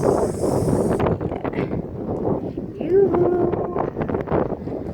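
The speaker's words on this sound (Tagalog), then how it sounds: "mahangin sa labas" Gusty wind buffets the microphone outdoors on an island seashore with a steady roar, while a voice talks over it.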